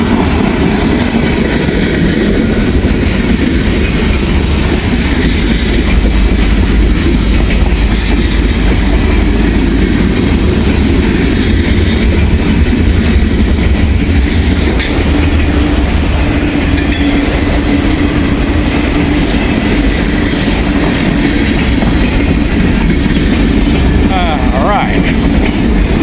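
Norfolk Southern mixed manifest freight train rolling past at close range, a loud continuous rumble of railcars with faint wheel clatter and a brief squeal throughout.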